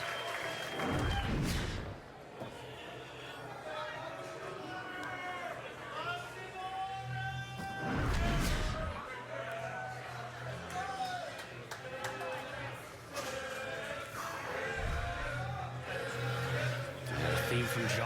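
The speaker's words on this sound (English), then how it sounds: "You hear the crowd kind of chanting to it." A bowling crowd at the PBA playoff quarterfinals claps and chants in rhythmic bursts, with sharp pin-crash strikes punctuating the noise and a commentator talking over the steady hubbub throughout.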